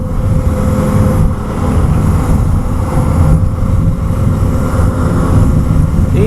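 Steady, loud engine drone and wind rush from an adventure motorcycle cruising at around 80 on a 14-tooth front sprocket, continuous with no breaks.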